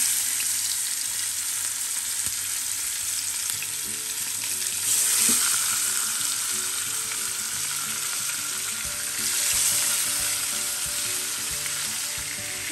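Spiced pieces fry in hot oil with a loud, continuous sizzle and crackle that swells slightly now and then, close by, with no one talking.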